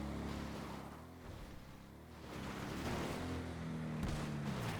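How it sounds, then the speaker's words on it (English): Damaged car engine in a video game, a continuous low rattling drone that grows slightly louder and rougher partway through, steady and close with no talk over it. "Oh yeah, engine's rattling."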